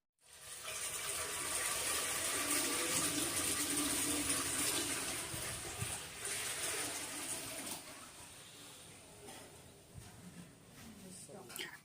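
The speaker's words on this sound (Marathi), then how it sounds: "पातेल्यामध्ये पाणी टाकलं." Water gushes steadily into a brass pot for several seconds, then tapers off to a softer trickle with a few clanks.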